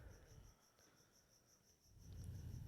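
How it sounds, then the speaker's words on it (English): Crickets chirp in a steady, evenly pulsed rhythm through a quiet outdoor night, faint but continuous, with a low rumble swelling in underneath toward the end. "it's your fucking crickets"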